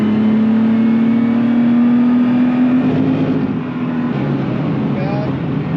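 Rally car on the Nogaro circuit accelerating, a steady engine drone rising slowly in pitch, heard from inside the car under continuous coaching speech.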